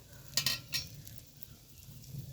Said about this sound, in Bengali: এইভাবে দেখো কিভাবে সুন্দরভাবে অল্প তেলে ফুটফুট করছে